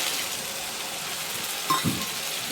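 Potatoes with peas and paneer fry in a pan as water goes in, making a steady, even sizzle with a brief clink and splash near the end.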